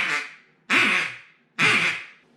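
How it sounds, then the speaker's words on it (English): Three loud quacks blown on a duck call, each driven from the diaphragm with a sharp attack and a long fading tail, close and alone with no talk. "The mouth is only the tool to connect the diaphragm to the duck call."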